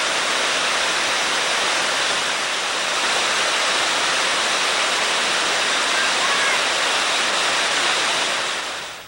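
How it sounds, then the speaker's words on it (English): Cameron Falls roars in a constant, dense rush of falling water, loud and steady throughout with no breaks. "This is Cameron Falls."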